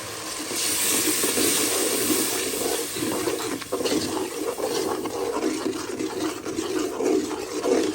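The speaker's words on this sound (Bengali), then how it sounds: "দিয়ে দিলাম একটু পানি" Water is poured into a pot of chicken and potato curry with turmeric, ginger, cumin and coriander, making a steady broadband rush and hiss that runs loud and close for about eight seconds, with no talking.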